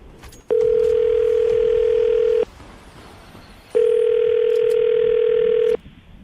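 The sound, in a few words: telephone dial tone while placing a call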